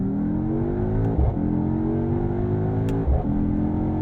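A performance sedan in manual paddle-shift mode pulls hard toward redline, its engine note climbing steadily, then cut by two quick upshifts, each followed by another rising pull, loud and sustained from inside the cabin.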